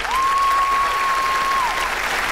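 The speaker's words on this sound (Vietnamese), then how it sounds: "Vỗ tay một lần nữa cho cặp đôi siêu đỉnh vừa rồi." An audience applauds a dancing couple on a Vietnamese TV game show, a steady dense wash of clapping with a sustained electronic tone over it.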